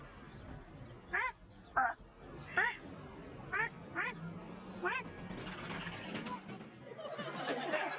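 A person imitates a duck's quacking with a run of short nasal quacks in an uneven rhythm, ending in laughter and chatter from a studio audience.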